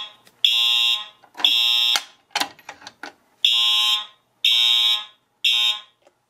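A fire alarm sounds during a local alarm system test, six loud, close bursts of a piercing electronic horn tone in an even on-off rhythm, broken by a short patch of clicking.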